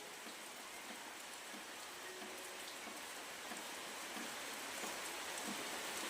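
Steady rain falls in a soft, even hiss, constant throughout with no voices.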